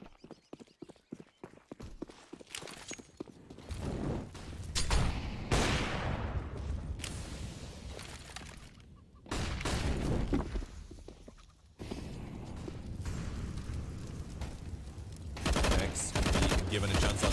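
Gunfire from a Counter-Strike match on the Inferno map, dense bursts of rapid shots and rattling automatic fire filling the scene, loud and sustained with short lulls, mixed with game effects.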